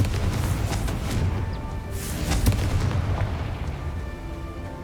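A Confringo blasting spell going off in Hogwarts Legacy: a loud, sustained booming barrage of explosive bursts with a deep rumbling low end, continuous across the whole stretch with no voices.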